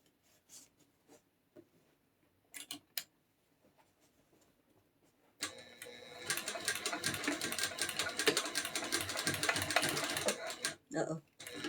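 A sewing machine back stitches a rucksack seam at a half-inch seam allowance: a loud, dense, steady mechanical whir running for about five seconds after quiet moments with a few soft clicks and brief talk.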